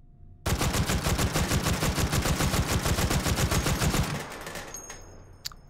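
A full-auto gun in Hot Dogs, Horseshoes & Hand Grenades, a VR shooting game, fires one long rapid burst of evenly spaced, close, loud shots for about four seconds, then brief mechanical clicks as it empties.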